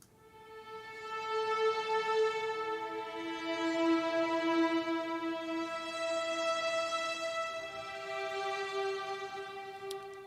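An Arturia Augmented swell synth pad, soft sustained tones with slowly shifting pitches that rise and fall gently in volume, playing alone and fairly quietly.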